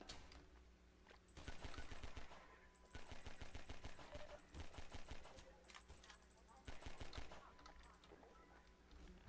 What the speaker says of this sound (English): I used a gun to kill 2 guys.